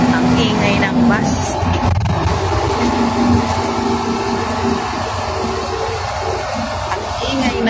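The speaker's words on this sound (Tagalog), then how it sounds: "Ang ingay ng bus. Bagal." A slow passenger bus rumbles along a winding mountain road near Sapang Palay, Bulacan, with a constant loud engine drone, rattling and brake hiss heard from inside, while someone talks over it.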